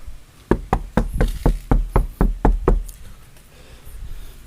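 About ten firm knocks land on a car body panel lined with several layers of sound-deadening material. The rhythm is steady and close, each knock dull and thudding rather than ringing, followed by quiet.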